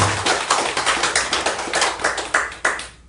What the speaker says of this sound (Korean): 다시 한번 박수 한번 부탁합니다